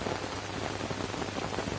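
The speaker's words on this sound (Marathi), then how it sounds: "आणि पाऊस असा भरपूर असा पडत सुटलेला आहे रेटून." Heavy rain pours down steadily outdoors near a tree during a fishing outing, a dense, even hiss of countless drops with no voices.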